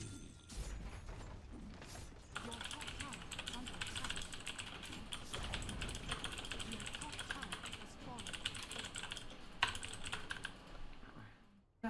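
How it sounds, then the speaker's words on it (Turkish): Fast, clattering keystrokes on a computer keyboard during a Dota 2 match, with quick irregular bursts of clicks running throughout at a fairly close distance. "Klavyeye de basarız"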